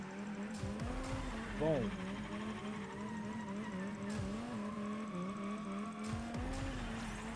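Drifting car in the video game Rocket Racing, a steady engine drone with a squealing tire chirp near the two-second mark and brief swooping pitch changes throughout, running under a commentator's voice.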